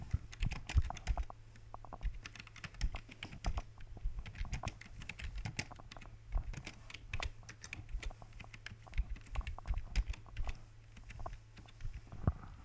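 Fingers tap on a computer keyboard running Windows Vista, with quick irregular clicks and short pauses, quiet and close with no voices.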